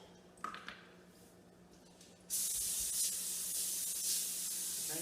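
Some faint handling noises, then a sustained close hiss of cooking spray onto a foil-lined sheet pan starting midway and continuing steadily to the end.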